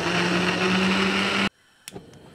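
A kitchen blender grinds tomatoes with half a cup of water for a fish karahi, a loud steady whirring roar that cuts off abruptly, followed by a couple of faint clunks.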